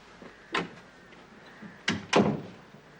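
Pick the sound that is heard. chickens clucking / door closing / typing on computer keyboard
door closing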